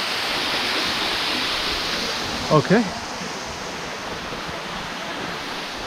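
Waterfall at a river confluence in the Garden of Caves, Meghalaya, roaring as a steady, loud broadband rush throughout, with a brief spoken word partway through.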